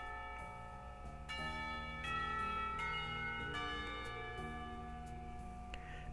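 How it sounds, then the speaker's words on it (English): A school bell rings with sustained, overlapping metallic tones that swell and decay over several seconds, faint and alone, in the visual novel Katawa Shoujo. "Somewhere the school bell rings,"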